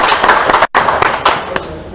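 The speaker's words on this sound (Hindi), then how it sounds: "शाहीन के लिए आपको एक दफा कलंदर्स की तरफ से भरपूर तालियां होनी चाहिए" Audience applause for cricketer Shaheen Shah Afridi at a youth program event: a dense, steady wash of clapping close by, with a brief gap midway and a few sharper claps near the end.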